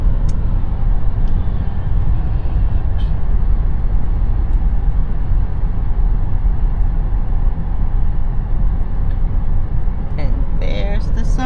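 A car drives into Stettler, Alberta, its engine and road rumble loud and steady throughout, with people talking over it.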